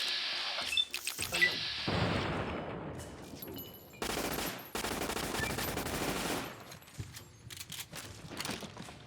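Rapid bursts of gunfire in Fallout: New Vegas, sharp clustered shots followed by dense sustained volleys, loud and close with brief gaps between bursts.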